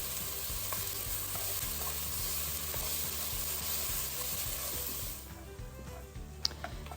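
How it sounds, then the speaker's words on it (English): Onions frying in a pot over a medium flame give a steady hiss and sizzle with faint stirring scrapes, easing off toward the end and followed by a couple of light knocks, no one speaking. "So we're just trying to cook the onions to translucent."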